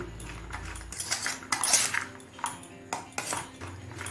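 A spoon scrapes and clinks against a bowl while chotpota is stirred together with raw mustard oil, giving a string of close, uneven clatters and scraping strokes with no talking.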